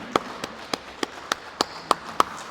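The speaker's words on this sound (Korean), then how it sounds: "영광의 박수 올리겠습니다" Sparse applause during a Korean church Sunday service, seven or eight distinct hand claps at a steady, unhurried pace, clear and close over a quiet room.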